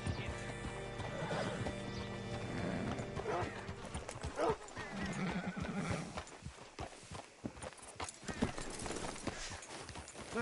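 A horse in Red Dead Redemption 2 whinnies and snorts, its hooves clopping near a hitching post, with a voice speaking over the animal sounds.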